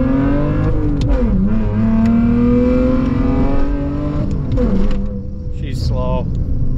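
A BMW E46 wagon's engine pulls under acceleration from inside the car, a loud steady drone rising and dipping in pitch with the shifts, with people talking over it.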